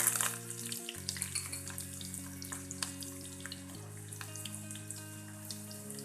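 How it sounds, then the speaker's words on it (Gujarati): Chilli pieces fry in hot oil for a tempering for soft nylon khaman dhokla, a bright continuous sizzle with scattered pops over soft background music. "તેમાં મરચાના ટુકડા, થોડા તળાઈ જાય એટલે લીમડાના પાન,"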